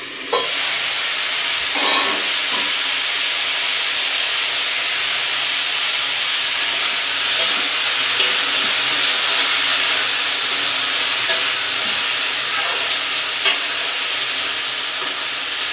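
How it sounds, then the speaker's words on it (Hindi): A Bengali-style mixed vegetable sabzi sizzles and steams steadily in a pan, a loud continuous frying hiss broken now and then by soft scrapes of stirring. "मैं ऐसे बीच बीच पर चलाते रहूंगी।"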